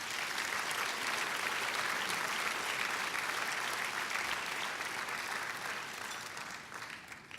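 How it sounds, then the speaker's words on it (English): A gala audience at an education leadership award dinner applauds the table sponsors in a full, dense round that stays strong for most of the stretch and then fades slightly toward the end. "So let's give them a round of applause."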